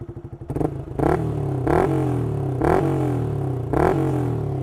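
A Yamaha R15 V3 motorcycle idles with no dB killer fitted in its exhaust, then is blipped four times in a steady rhythm, each sharp rev rising loud and close above the rumbling idle.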